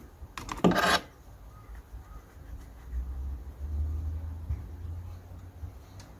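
A 13 mm wiper arm nut comes off a Renault Clio with a short, sharp metallic rasp of the wrench near the start, followed by a low rumbling background and faint handling noise.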